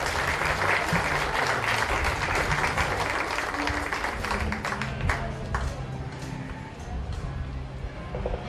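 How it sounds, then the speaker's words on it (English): Crowd applause for children at a 4-H supreme showmanship event, sustained dense clapping throughout with some scattered sharper claps, moderately loud and steady with no voices over it. "let's give all these kids one more nice round of applause"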